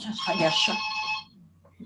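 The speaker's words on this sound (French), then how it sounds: "Il y a un problème? Non, c'est le téléphone." A telephone rings with a bright, sustained electronic trill for just over a second, then falls quiet, with faint room sound and a short noise at the very end.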